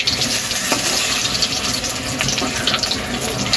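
Ash gourd pakoras fry in hot oil in a village kitchen, giving off a steady, dense sizzling hiss that holds at an even level throughout, with no talking.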